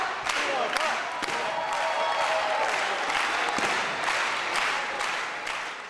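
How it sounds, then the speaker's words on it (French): An audience at a ceremony applauds Ilonka with steady, dense clapping that fills the room, along with some rhythmic group chanting and scattered voices over a sustained crowd wash. "On va l'applaudir."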